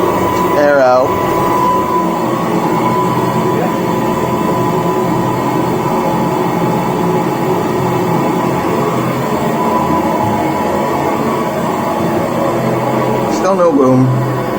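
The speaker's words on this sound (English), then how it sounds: "The compressor doesn't like us dumping it like this." Compressed air dumps out of a fire sprinkler system's air lines in a loud, steady hiss that rushes on for the whole stretch, with brief voices near the start and end.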